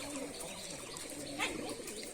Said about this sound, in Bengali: এই দেখুন পায়রা লাইন ধরে বসে আছে।